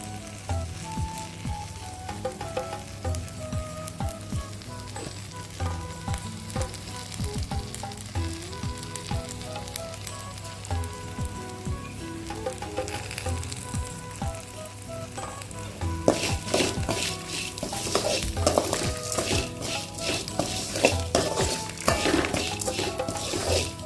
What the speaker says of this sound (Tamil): நான் கொஞ்சம் எண்ணெய் ஊற்றி வறுக்கிறேன்.